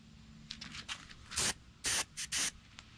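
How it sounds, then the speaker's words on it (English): A quick mist of gold paint sprayed onto a crappie fish replica, a few short hissing bursts close by, separated by brief pauses, with no talking. "And just a quick mist of gold over the top."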